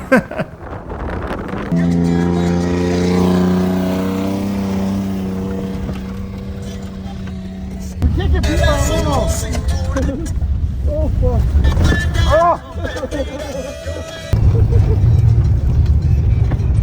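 A Lexus GS300 drift race car on track during Driftweek 2023, its engine droning loud and close with a rising pitch, then voices shouting over the continuing engine roar.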